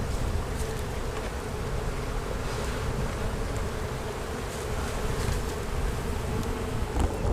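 A thick, continuous hum of honeybees surrounds an open hive, close and even throughout, individual bees now and then droning louder as they pass.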